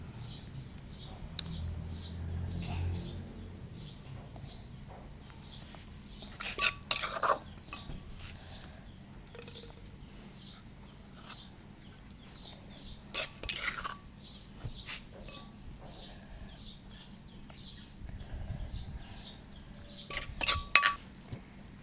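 Pounded green mango salad is scooped from a mortar onto a plate, with soft scraping and occasional sharp clinks of utensil on dishware in a few clustered bursts, while birds chirp faintly and steadily in the background.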